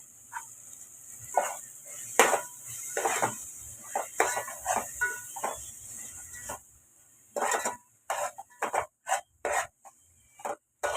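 Spices with shahi biryani masala are stirred and sautéed in a pan, giving repeated scraping and rasping strokes of a spoon against metal, steady at first and then in short quick bursts, close by.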